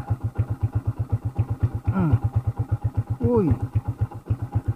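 Small boat engine idling during solo fishing trip, a steady close putt-putt chugging pulse with regular beats throughout, while someone speaks briefly over it twice.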